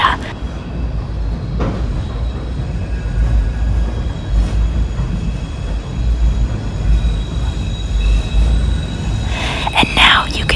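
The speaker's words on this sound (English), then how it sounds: "you can see the train that I am currently on as it heads around the bend into Queensboro Plaza" NYC subway N or W train rounding the curve into Queensboro Plaza station in Queens, heard from on board: a steady low rumble of the moving cars with faint wheel squeal rising near the end.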